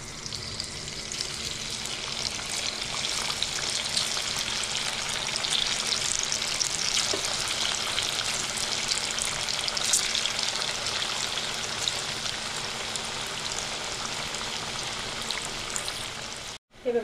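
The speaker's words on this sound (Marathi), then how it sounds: "त्या आलूच्या पानाच्या वड्या तळायला टाकणार आहे" Colocasia leaf vadis (alu vadi) deep frying in hot oil give a steady, dense sizzle that holds loud and even for the whole stretch before cutting off abruptly at the end.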